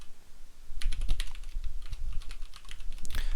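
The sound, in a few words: typing code on a computer keyboard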